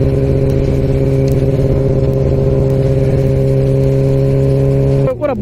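Yamaha R6 sport motorcycle engine humming at a steady high pitch while riding, droning continuously and fairly loud before cutting off abruptly near the end.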